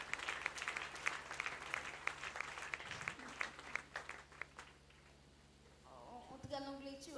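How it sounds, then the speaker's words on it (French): A church congregation breaks into sustained applause and clapping, dense and lively for several seconds before fading, with a hum underneath and voices and a tone rising at the end. "Acclamez la parole de Dieu"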